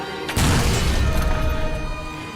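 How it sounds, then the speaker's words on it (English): Ceremonial cannon fired at a pub to salute an old keg, a single loud close boom that hits suddenly and then rumbles and decays into a long echoing tail. "The firing of the cannon signifies an end for this keg, but also a renewal and a salute."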